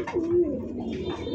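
A pigeon at a pigeon farm gives a soft, close, throaty coo, one drawn-out rolling call that swells and then trails off quietly.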